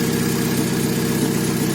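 A Fiat Panda 1.1/1.2 petrol engine idles steadily with a burnt-through exhaust, giving a continuous, even, throbbing drone up close with no talking.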